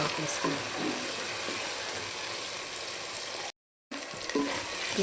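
Potato pieces are stirred into a sizzling tomato curry with a spoon, a steady close frying hiss with scraping stir strokes, cut by a brief silence near the end.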